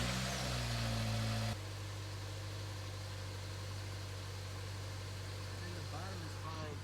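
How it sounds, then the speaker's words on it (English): A 2012 Nissan Versa's engine catches after a remote start and settles into a steady, low idle hum, with a brief louder start burst at the beginning and a few faint higher squeaks near the end. "But I'm gonna turn on the car"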